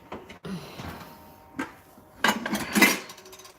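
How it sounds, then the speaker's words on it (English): A lid goes onto a cooking pot of chicken boiling in water, with light metallic clinks and scrapes in a few separate close knocks. The final rattle and clatter is the loudest. "So you want to put the lid on"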